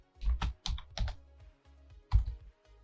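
Computer keyboard typing a sudo apt command in a Linux terminal, a quick close run of distinct key clicks in small clusters with short gaps, no voices.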